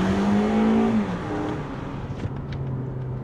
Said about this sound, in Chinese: 外面的引擎聲浪是大聲的